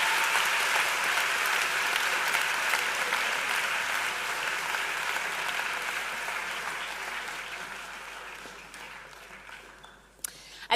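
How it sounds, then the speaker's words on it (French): An audience at a thesis-presentation contest final claps loudly and steadily for the finalists, a dense wash of applause that slowly fades toward the end, with no voices. "Une dernière fois, mesdames et messieurs, applaudissez-les."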